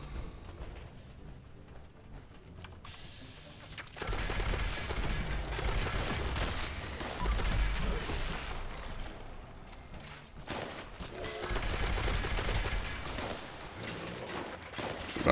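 Bursts of gunfire in the Fallout 76 video game, from a commando build in power armor, with rapid automatic volleys starting abruptly, rattling on, pausing, then resuming amid some clatter.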